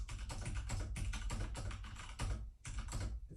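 Someone types quickly on a mechanical keyboard, the keys clacking in a dense, uneven run of sharp clicks. The typing is close and continuous, with one brief pause, and no voices.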